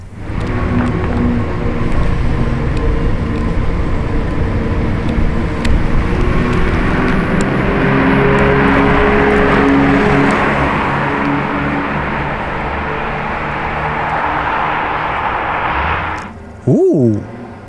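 A Lamborghini Urus SE hybrid SUV drives by quietly, a smooth, sustained whoosh of tire and road noise holding steady for most of the stretch before a brief louder engine note at the end.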